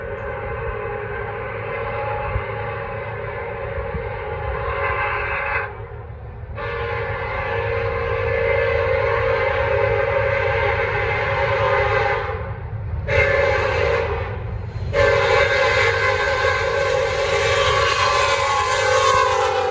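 A northbound Norfolk Southern freight train, 24X, rolls past steadily and loudly for the whole stretch. Continuous wheel and engine rumble, with brief dips as cars go by, and no voices.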